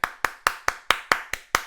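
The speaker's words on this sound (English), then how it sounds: "You're getting a big round of applause from that one" Eight evenly spaced, crisp hand claps ring out alone in a slow, steady rhythm, close and moderately loud.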